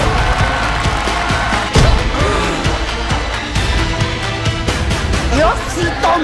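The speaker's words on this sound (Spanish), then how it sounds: "¡Fuerte el aplauso!" Applause and cheering from a live audience, a dense steady wash of clapping with crowd noise, loud and close throughout, with a sharp burst near the middle and voices mixed in.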